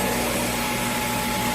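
A Shark PowerDetect Ultra-Light corded stick vacuum running with a steady, close whirring motor drone and a fixed tonal whine, brief and continuous with no speech.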